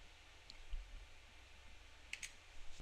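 A computer mouse click on a Save button in hospital admission documentation software, a couple of faint, sharp clicks near the end over a quiet room hum.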